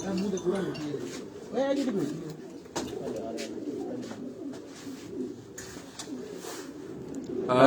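Pigeons coo at a home loft with breeding cages, a soft repeated cooing running under steady nearby speech throughout.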